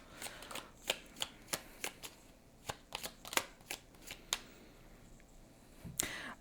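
A deck of tarot cards shuffled by hand, a quick series of crisp riffling snaps and flutters that come in uneven bursts, close and fairly quiet with no talking.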